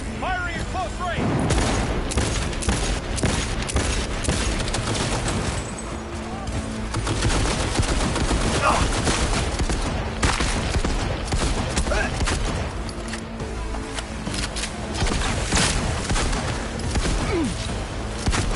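Close-range gunfire in the video game Cyberpunk, a dense, continuous barrage of loud shots and bursts filling the whole stretch, with speech mixed in over the shooting.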